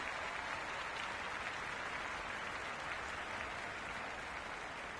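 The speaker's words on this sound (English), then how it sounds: "There's a buzz, a real buzz coming from the stands." Stadium crowd noise in the cricket video game Cricket 26, a steady, faint, broad wash of cheering and clapping from the stands with no break.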